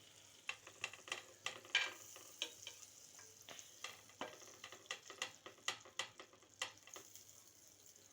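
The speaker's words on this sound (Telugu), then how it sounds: "మళ్ళీ సెకండ్ ఇట్లా వేయించుకుంటున్నాం." Slices of bread frying in butter in a pan, a steady soft sizzle broken by frequent light scraping and stirring taps from a utensil, close and fairly quiet with no voices.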